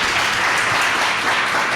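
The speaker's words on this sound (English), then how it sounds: "Let's give a big round of applause again to Andrew." Sustained clapping from a seated audience at a design center talk, a dense, even wash of applause from start to finish with no voices.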